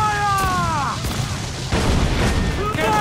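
Ship cannon fire during a naval battle in Assassin's Creed 4 Black Flag, heavy booms among shouting crew voices and whistling, warbling tones, loud and close.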